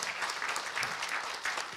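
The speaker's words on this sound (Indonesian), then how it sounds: "Tepuk tangan yang luar biasa." Audience applause at the launch of PLN NP's Nusantara InnoVision Center, a steady wash of clapping from a crowd, fairly near and sustained throughout without talk.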